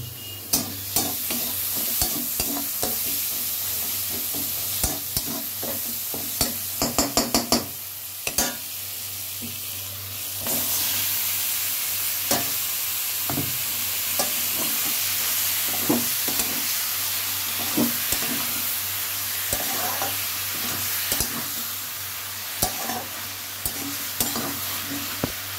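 Pieces of Bombay duck fish, marinated with potato, salt, turmeric and chilli powder, fry in a wok with a constant loud sizzle, broken by scraping stirs and clinks of the spatula near the start.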